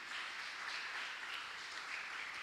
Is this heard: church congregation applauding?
yes